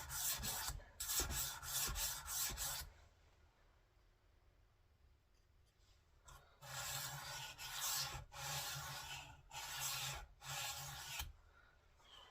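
A Victorinox kitchen knife drawn along a sharpener in repeated rasping strokes, two bursts of several close, loud passes separated by a quiet pause, with no talking.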